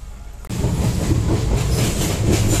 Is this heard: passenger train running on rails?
yes